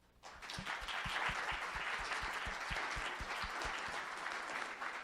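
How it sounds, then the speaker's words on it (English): An audience applauds a panel at the close of a discussion, with a dense, steady wash of clapping that starts abruptly and holds at an even level for several seconds. "Let's give a round of applause"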